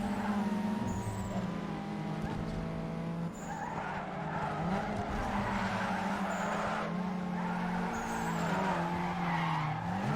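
Car drifting through a corner in Need for Speed Underground 2, with sustained, loud tire skidding and squeal over a steady engine drone across the whole stretch.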